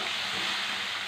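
Ginger pieces, green chillies and turmeric fry in a pan, producing a steady, faint, even hiss of sizzling with no other sounds.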